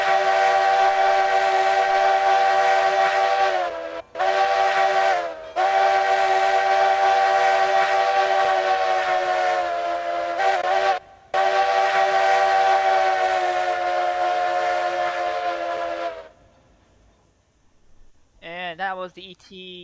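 A locomotive whistle in the Railroads Online train simulation game sounds in long, loud, sustained blasts with a few brief breaks, then cuts off and is followed by quieter warbling tones.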